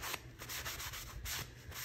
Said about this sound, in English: we're just gonna wipe off as much of that dust as we can